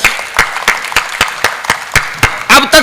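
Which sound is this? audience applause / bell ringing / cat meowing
audience applause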